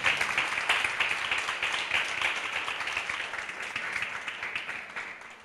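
A church congregation claps loudly during a morning service, a dense, sustained ovation that slowly fades.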